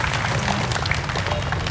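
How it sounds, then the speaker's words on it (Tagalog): Dense applause from a crowd, a continuous wash of clapping at moderate loudness over its short span. "Isang malakas na palakpak naman dyan."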